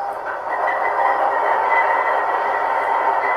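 An ESU LokSound decoder in a Kato C44-9W model locomotive plays a steady diesel engine drone, moderately loud and continuous, with no talk.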